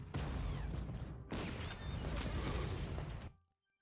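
Artillery fire in the World War II strategy game Panzer Corps: two heavy booming blasts with long rumbling tails that fill the clip, then cut off sharply into silence.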